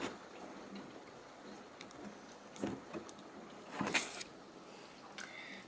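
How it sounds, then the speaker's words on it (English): Afternoon rain easing off outdoors: a faint, sparse patter with a few louder drips and splashes scattered irregularly over a quiet background. "it sounds like the rain is slowing down"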